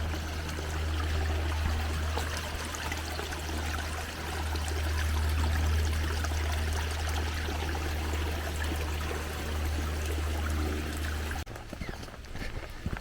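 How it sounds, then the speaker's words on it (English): A creek spills over a small waterfall on a woodland walking trail, a steady rushing and trickling of water heard at moderate level throughout, with the flow cutting off abruptly near the end. "Just a bit of a waterfall."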